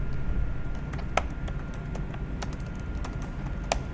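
Rapid computer keyboard typing of an accounting journal entry, with quick, light key clicks in a steady stream over a constant background hiss.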